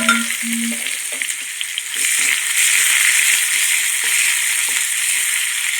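Onions frying in a pan, a loud close sizzle that swells after a couple of seconds and holds steady, with faint stirring clicks and scrapes at the start.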